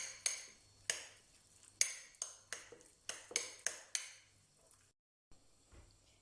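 A spoon stirs mayonnaise and grainy mustard in a bowl, with a series of sharp metallic clinks against the bowl at an uneven pace, fading out near the end.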